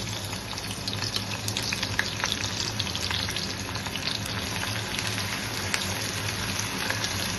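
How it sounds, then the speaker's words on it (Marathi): Chopped onion sizzling and frying in a generous amount of hot oil for a shrimp masala, a steady close crackle and hiss with no talking. "तेल आपलं गरम झालेलं आहे। यामध्ये आता आपण कांदा घालूया।"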